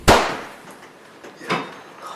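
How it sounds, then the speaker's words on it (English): A sharp, loud bang cracks out and rings off briefly, followed by a second, softer report about a second and a half later. "That's gunfire."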